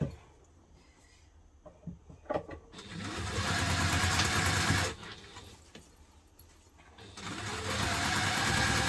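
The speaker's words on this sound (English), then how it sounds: "let's just give that a sew together" A sewing machine stitches the seam of a hipster-style fabric bag in two sustained runs, steady and fairly loud, separated by a quieter pause with faint handling noises.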